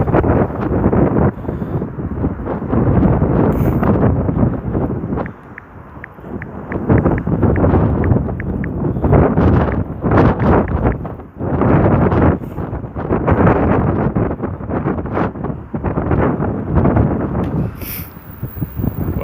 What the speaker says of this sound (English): The wind won't even let me type.